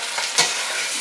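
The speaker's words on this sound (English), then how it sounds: "I'm going to go ahead and stir just to mix with the oil" Chopped onions frying in oil for a chicken korma sauce, a loud close sizzle with a quick spoon scrape as they are stirred.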